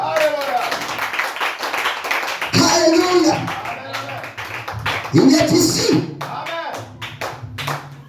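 Congregation at a French-speaking church service clapping rhythmically and calling out in acclaim, with bursts of cheering rising twice over a preacher's voice and ongoing talk.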